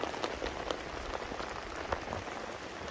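Steady rain falling outside a wooden cabin, a dense, even hiss of drops pattering on surfaces, with a few sharper drips standing out.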